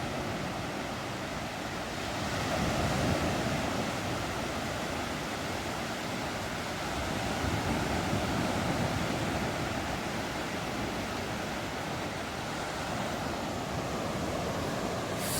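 Continuous roar of sea waves washing onto Chivla Beach in Malvan, Sindhudurg, in the morning as the tide comes in, a steady broad rush with gentle swells, no voices.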